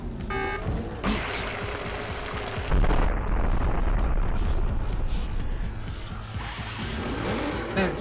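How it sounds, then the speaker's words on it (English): A compressed-sounding explosion in the Jak and Daxter video game bursts out as a loud, dense boom about three seconds in, over continuous game engine rumble and low noise. "That explosion sounds like so compressed."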